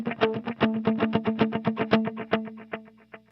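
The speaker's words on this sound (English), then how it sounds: "The first one is a dotted 8th note delay." Electric guitar with a dotted eighth note delay plays quick repeated notes whose echoes fall on the off beat, a rippling pulsing pattern that fades toward the end, heard alone.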